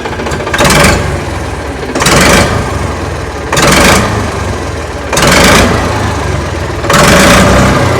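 A Powertrac tractor engine, started on its self-starter and then revved in five repeated bursts, each rising loudly over a steady, close diesel idle at roughly even intervals, with no voices.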